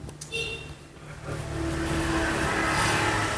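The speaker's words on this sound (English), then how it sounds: "there is a motorcycle" A motorcycle passes close by, its engine rising from a low idle-like hum into a louder, sustained revving drone that holds to the end.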